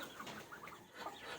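Chickens cluck softly nearby, a scattering of short throaty calls over a low background murmur, with no one talking.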